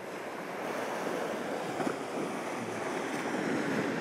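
Ocean waves at Parangkusumo beach in Yogyakarta, a steady loud wash of surf with wind noise buffeting the microphone throughout, no voices.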